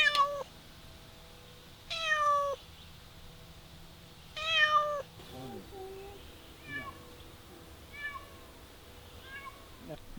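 Cats meowing near a rural property troubled by mice and voles: several clear, rising-falling meows spaced a few seconds apart, later ones softer and more distant, over a quiet outdoor background hum.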